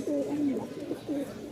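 Giribaz pigeons, offered for sale in Mirpur, Dhaka, give a few soft, rolling coos up close, with a longer call at the start and another near the end over a quiet background.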